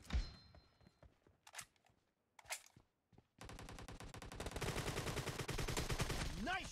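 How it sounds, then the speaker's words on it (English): Suppressed AKM rifle fire in a team deathmatch shooter game, rapid bursts of muffled shots in short clusters, then a dense sustained stretch of gunfire and clatter, close and moderately loud. "Nice shot!"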